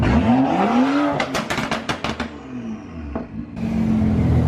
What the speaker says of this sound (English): Hey, rev it for the video. Rev it for the video.